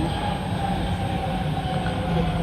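Steady rumble inside a moving train in Belgium, with a constant low drone and faint rattling, unbroken throughout.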